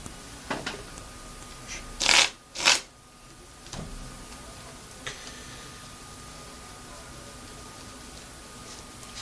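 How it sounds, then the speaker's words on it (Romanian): Playing cards are cut and handled for a card trick, giving a few soft taps and two quick riffling bursts close by in an otherwise quiet room. "Tăiem pachetul."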